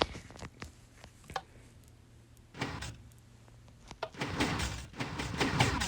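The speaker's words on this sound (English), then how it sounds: "I'm going to make a tutorial on this 4x4 piston door" A 4x4 piston door in Minecraft Pocket Edition opens with a series of sharp mechanical clacks and thuds, quiet and sparse at first, then building into a rapid, louder burst of piston movement.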